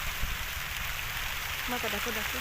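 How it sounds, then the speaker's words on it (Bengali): Rain pattering down outdoors under trees beside a fish-farming pond, a steady soft hiss throughout, with a voice speaking briefly near the end. "যদি বৃষ্টি কমছে এখন তারপর আকাশ মেঘলা"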